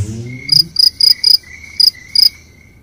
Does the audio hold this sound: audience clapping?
no